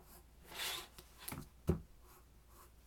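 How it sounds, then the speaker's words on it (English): A pencil drawing curved lines on paper, giving soft scratchy strokes that come in a few separate sweeps and then a sharper tap, up close and quiet with no talking. "So I'm going to start drawing the bends."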